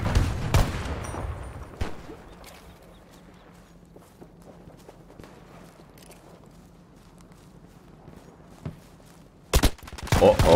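Gunfire in the shooter Battlefield 2042 crackles in scattered sharp cracks, some near and loud and others distant and faint, with a heavier cluster of shots near the end over a low mechanical hum.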